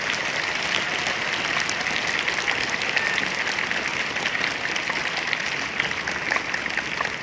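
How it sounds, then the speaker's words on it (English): Steady, dense applause from a large crowd at a school Teachers' Day celebration, clapping continuously at an even level throughout. "Put your hands together once again."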